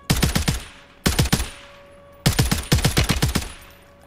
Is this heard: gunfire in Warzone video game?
yes